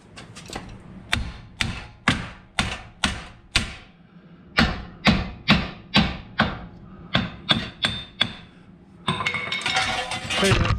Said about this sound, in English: I think I got it close enough I can knock it with a hammer.